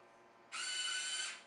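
An iRobot Looj gutter cleaning robot's auger spins up suddenly with a high whirring motor whine, holding for under a second before tapering off, heard faintly and up close with no talking.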